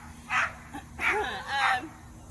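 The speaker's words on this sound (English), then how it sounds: "Please ignore the dog in the background barking." A dog barks three times in quick succession, moderately close, on a farm near breeding pens, with a steady low hum underneath.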